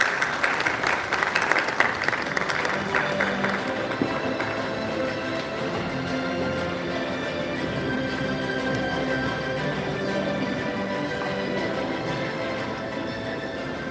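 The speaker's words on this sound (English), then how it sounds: "Can we have a big round of applause for our juries?" An audience at a film awards ceremony claps for the juries as they come on stage, a strong burst of applause at the start that settles into a sustained, fainter patter with a low hum beneath.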